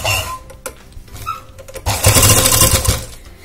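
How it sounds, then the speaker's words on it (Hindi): A sewing machine runs a final line of stitching along a curtain, short bursts of whirring and clatter giving way to a louder continuous run near the end, close and distinct, with no talk over it. "ऐसे सिलाई लगाते जाएंगे, ठीक है। ये हमारी फाइनल सिलाई है।"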